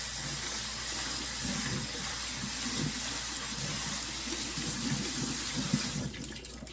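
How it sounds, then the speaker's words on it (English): Tap water runs steadily into a kitchen sink as bean sprouts are rinsed for Malaysian fried rice vermicelli. A close, even hiss and splash continues, then cuts off near the end with a few handling clatters. "Wash the bean sprout in the sink."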